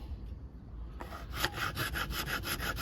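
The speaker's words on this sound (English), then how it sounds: "Nice wood file with a rasp on there. And work it back and forth." A wood rasp is worked back and forth across a hickory tree branch, making a steady run of rhythmic scraping strokes, close and fairly loud, after a quieter first second.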